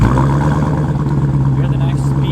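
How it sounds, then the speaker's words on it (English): A 2019 Dodge Challenger Hellcat Redeye after a remote start, its beefy exhaust note rumbling steadily at idle, deep and close, with a voice talking over it. "You hear the nice beefy exhaust note."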